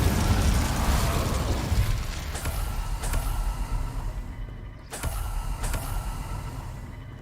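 An Incendio fire spell cast in Hogwarts Legacy erupts with a loud fiery whoosh and rumble, followed by a few sharp bursts and pops as the flames die down.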